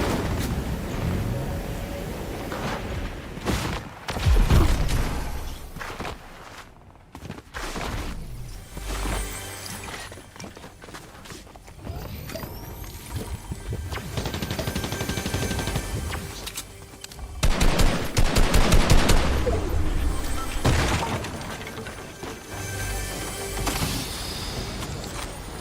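Fortnite combat, with bursts of gunfire and heavy impacts coming in waves over a long stretch, some loud and close, others thinner and more distant.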